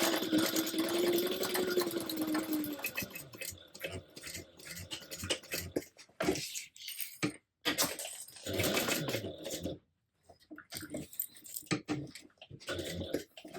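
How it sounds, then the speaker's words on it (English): A sewing machine stitches bias binding onto a tote bag, running in bursts of rapid mechanical stitching with brief pauses between runs, close and fairly quiet. "go ahead and stitch it down at 1/8 of an inch from the bias binding"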